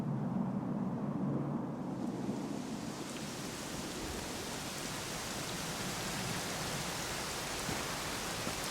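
Rain falls in the video game Dragon Quest XI S, a dense, steady hiss of rainfall with a deep rumbling undertone, swelling louder after the first couple of seconds and continuing evenly.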